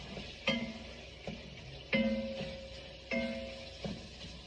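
A spoon stirs ground beef chili in a pot, scraping in about four slow, evenly spaced strokes over a soft simmering hiss, close and fairly quiet with no talking.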